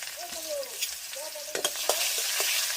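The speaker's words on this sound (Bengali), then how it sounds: "তেল আমার গরম হয়ে গেছে। পেঁয়াজের থালাটা পেঁয়াজগুলো দিয়ে দিলাম।" Onions crackle and sizzle loudly as they hit hot oil in a pan at close range, with metal spatula scrapes and clinks over the steady frying hiss, and no talking.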